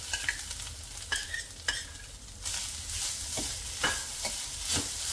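Freshly grated coconut sautéed with poppy seeds in a pan for ukadiche modak filling, a steady close sizzle broken by several sharp spatula scrapes and stirring knocks, with no one talking.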